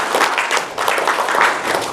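Steady applause from a seminar audience at a Jakarta health office training, dense clapping that carries on without a break, with a brief dip partway through.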